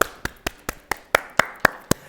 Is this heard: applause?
yes